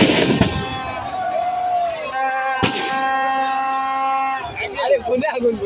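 Fireworks go off at a badminton tournament and music evening, two sharp bangs cracking out briefly under an announcer's amplified voice and a crowd.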